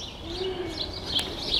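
A bird calls at a nature centre, a soft hooting coo over a steady airy background, with people talking nearby.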